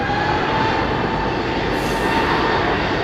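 An airplane at London Heathrow Airport sends out a loud, continuous jet roar with a faint steady whine riding on top, and no talk over it.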